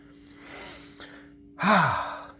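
Heavy breathing from a person walking, close to the microphone: a soft breathy exhale followed by a louder, voiced sigh-like gasp.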